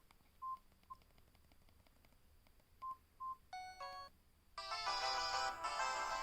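A software-generated phone ringtone begins after a few short keypad-style beeps: a brief electronic chime, then a fuller, brighter synthesized melody playing on without any voices.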